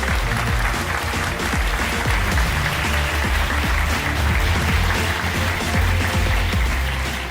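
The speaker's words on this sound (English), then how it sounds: "let's give them a huge round of applause" Audience applause for the Manufacturers Cup winner at a GT World Series round in Tokyo: dense, sustained clapping from a sizable crowd, loud and even throughout.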